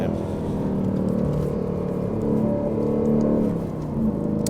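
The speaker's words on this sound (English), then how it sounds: "This is on sort of the quiet exhaust, so it's still nice sound dropping in here." An Aston Martin Vantage engine hums on its quiet exhaust setting while driving, a steady low drone with gentle rises and dips in pitch, heard from inside the car.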